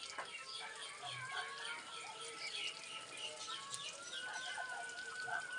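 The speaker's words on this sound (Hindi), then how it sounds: "तो इधर बहुत सारी पक्षियों की चहचहाट सुनाई दे रही है" Many birds chirp and twitter steadily in a mountain village garden in Uttarakhand. The calls overlap into a continuous chorus over a soft background hiss.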